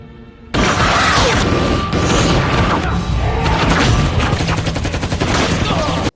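Dense gunfire exchange in a chaotic film scene: a sudden loud burst opens into sustained rapid volleys, booms and crashing impacts, up close and relentless throughout.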